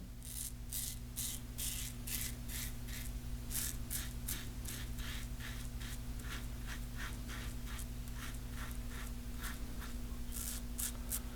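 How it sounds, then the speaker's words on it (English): A Parker 91R safety razor scrapes off beard stubble in a long series of short, rhythmic rasping strokes, close and steady over a constant low hum, with no talking. "You can hear the beard being removed."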